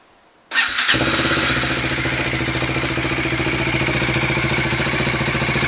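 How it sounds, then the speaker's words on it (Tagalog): A Bajaj Dominar 400 motorcycle engine, after a coolant change and flush, cranks and catches, then settles into a steady, loud, rhythmic idle that continues without a break. "bubuhayin ulit natin ang makina ng paandarin natin ng 2 to 3 minutes ulit"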